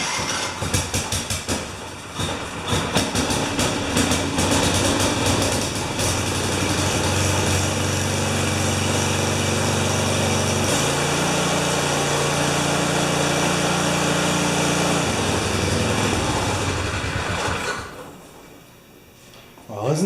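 A John Deere snow blower's small petrol engine catches and runs, a loud, steady, high-pitched buzzing drone that holds for many seconds and then cuts out, with a voice talking over it.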